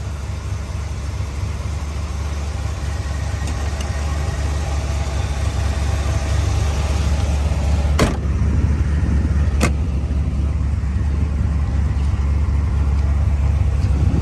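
A 1966 Corvette with 427 badging but a strong big block 454 V8 idles steadily and close, a deep continuous rumble with no talking, broken by two brief sharp clicks.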